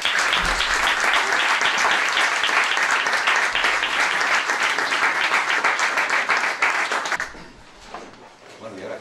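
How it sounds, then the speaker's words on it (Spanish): Loud, dense applause from a crowd at a book presentation fills most of the clip, then thins out into scattered claps near the end. "Un aplauso para él."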